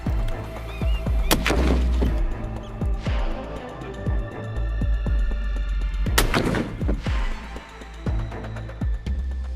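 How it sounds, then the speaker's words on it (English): High-caliber rifle shots ring out during a wild boar hunt, several sharp, loud cracks spaced irregularly with echoing tails, some clustered closely together. "using high-caliber rifles with high accuracy to quickly take them down"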